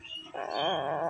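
A small child imitates whimpering puppies, voicing one drawn-out, wavering whine that starts abruptly and carries on to the end.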